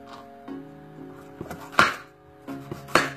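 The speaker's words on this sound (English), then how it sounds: "I'm going to cut some garlic a little bit" A kitchen knife cuts garlic on a board in a few separate close chops, with quiet pauses between them and steady background hum.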